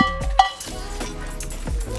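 Browned sausage lifted from a pan gives a few close metallic clinks and scrapes of utensil against cookware, with steady sizzling and kitchen noise underneath.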